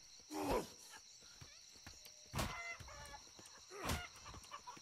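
Chicken in the video game Atlas gives three separate clucking squawks spaced a couple of seconds apart, faint against quiet game ambience.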